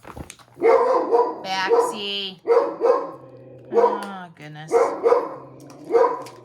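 A dog barks repeatedly at an Amazon delivery in a home kitchen, sharp close yips and whining barks coming in bursts while someone speaks over them.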